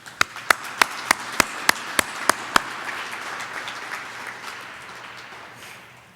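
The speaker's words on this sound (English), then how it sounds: "Please join me in a round of applause." Audience at the Wright-Hennepin 2021 annual meeting gives a round of applause: about ten sharp, evenly spaced single claps open it, then a softer, continuous wash of many hands clapping fades out.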